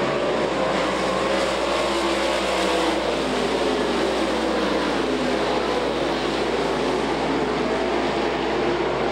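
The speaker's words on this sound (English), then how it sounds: "Down the back straightaway, Chris Speaker the lead as we're working lap number one here in the C main." Late model race cars racing on a dirt track during a C main at night, a dense steady roar of several engines at middle distance, continuous and loud, with no voice clearly heard.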